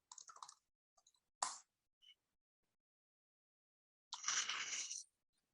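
Sharp computer mouse clicks during a screen recording: one crisp click, then a few faint separate taps, and a later longer rustling clatter from the desk, all quiet with silence between.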